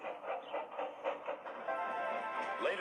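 Rhythmic chuffing of a steam engine, regular puffs that blur into a steady rolling rumble, moderately loud and close.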